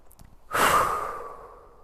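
A person doing an energising morning yoga sequence exhales forcefully through the mouth in one strong, close, breathy rush that fades over about a second. A faint sniff comes just before it, and there is no speech.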